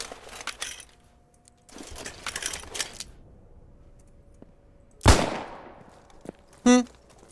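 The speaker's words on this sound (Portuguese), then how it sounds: "O primeiro tiro aqui que a gente dá com o Webley, ele é na ação simples." A Webley revolver, a British WWII infantry sidearm, fires a single-action first shot: one sharp, loud report near the end after soft handling and clicks, followed by a brief metallic ring.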